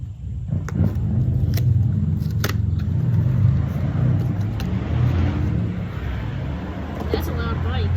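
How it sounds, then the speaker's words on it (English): A loud motorbike passes nearby, its engine rumbling steadily for several seconds outdoors while a bicycle inner tube is being changed, with a few light clicks and handling noises on top. "That's a loud bike."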